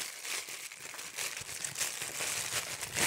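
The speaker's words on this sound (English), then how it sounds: "Crunchy, crunchy, crunchy paper." Steady, close crinkling and crunching of paper packaging being handled while unboxing a Marvel Legends Iron Spider figure, continuous for several seconds with no talking.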